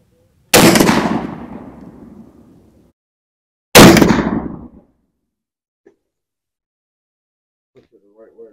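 Two sharp, loud blasts from a CVA Crossfire .50 caliber muzzleloader rifle, each a sudden crack trailing into a long rolling decay, spaced about three seconds apart, followed by quiet with faint distant voices.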